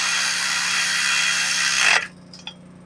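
An impact wrench tightening a bolt on a planter row unit, a loud close buzzing whir lasting about two seconds that stops abruptly, followed by a faint metallic clink.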